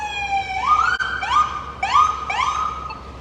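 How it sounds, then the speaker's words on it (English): An ambulance siren passes close by, its wail sweeping upward again and again in a steady repeating cycle, loud and clear with no voices over it. "We got an ambulance going by. Let's wait till this ambulance goes by us."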